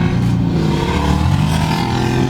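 Car revving on a San Francisco street, a loud, rough engine roar with a rising and falling note and a sharp exhaust pop breaking through partway, heard up close.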